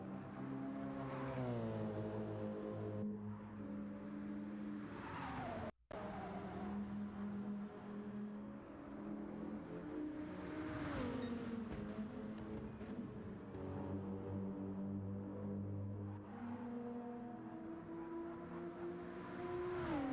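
Race cars lapping in Gran Turismo during an online pre-season sprint race, engines droning and shifting through gears with a steady roar, cars passing close by, one brief dropout midway, no talking.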